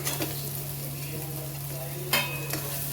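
Frying for an egg curry crackles in a pan with a steady close sizzle, a low hum underneath and a couple of sharp utensil scrapes as it is stirred.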